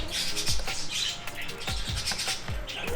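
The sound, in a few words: birds squawking in a pet store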